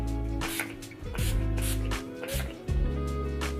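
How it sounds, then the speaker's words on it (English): Setting spray misted onto a face after makeup, several short airy bursts heard close up over a steady low hum of background music. "Let me spray my face down."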